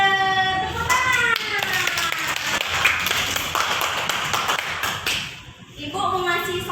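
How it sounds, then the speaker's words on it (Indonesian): Elementary schoolchildren in a classroom clap their hands in a quick, rhythmic burst of sharp slaps, with young voices chanting and calling out over the clapping. "Tepuk tangan."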